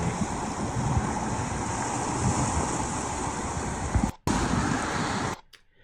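Waves washing on the Lake Superior shore, a steady broad rushing surf mixed with wind buffeting, continuous and fairly loud before cutting off abruptly near the end.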